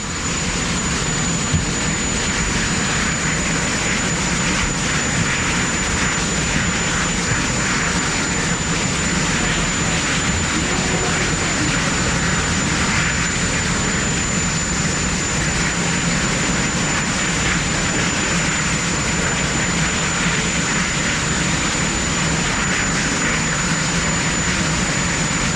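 Presidential helicopter carrying the President and First Lady, a loud, continuous engine and rotor roar that holds steady throughout with no voices.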